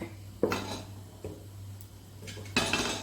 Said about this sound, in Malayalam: ഒരു പാൻ അടുപ്പത്ത് വെച്ച് അതിലേക്ക് നമുക്ക് കുറച്ച് വെളിച്ചെണ്ണ ഒഴിച്ചു കൊടുക്കാം